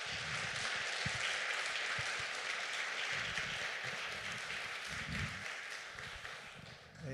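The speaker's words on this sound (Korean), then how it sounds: "우리 목사님께 감사의 박수 드리겠습니다" A church congregation at a Korean Presbyterian Sunday service applauds for its pastor, producing steady, sustained clapping that fills the room at moderate volume, then tapers slightly toward the end.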